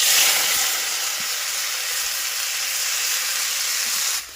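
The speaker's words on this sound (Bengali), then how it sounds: "শাকটা ভেজে নেবো, তার জন্য কড়াইতে দিয়ে দিলাম।" Greens hit hot mustard oil in a kadai with a loud, close, continuous sizzle that holds steady before dropping off at the end.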